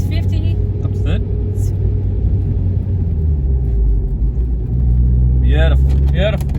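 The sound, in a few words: manual car driving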